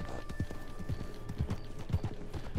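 A horse gallops in Red Dead Redemption 2, its hooves clip-clopping in a steady, fast rhythm at close range, with a faint tonal game hum underneath and no talk.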